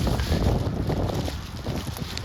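Wind buffets the microphone outdoors by a backyard pond near a loud interstate highway, a steady rough rumble of gusts and traffic noise with no talk.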